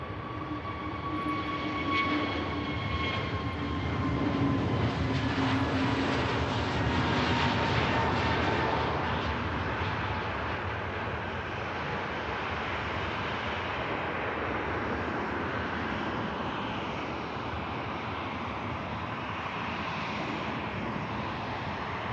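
Ryanair jet departing Manchester Airport, bound for Malaga: a sustained engine roar with a faint whining tone, loudest early on and then settling to a steady, slightly fading rumble.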